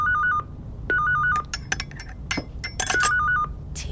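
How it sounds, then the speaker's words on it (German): An office telephone at a late-night radio station rings in short repeated electronic trills, two bursts separated by a pause, with clinks and small handling clicks between them in a quiet room. "Telefon?"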